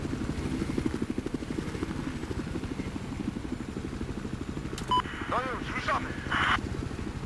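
A helicopter in the video game Battlefield 4 thrums with a steady rotor pulse under the game audio, joined near the end by short bursts of effects and radio-like beeps.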